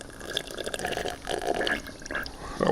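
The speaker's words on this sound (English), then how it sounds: "how about you just chug the water?" A person gulping water down in continuous watery swallows, a steady liquid sloshing close to the mic with no talk over it.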